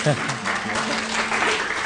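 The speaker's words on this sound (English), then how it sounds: "You guys are clapping." Classmates clap steadily throughout as a dense burst of applause in a middle school classroom, with voices talking over it.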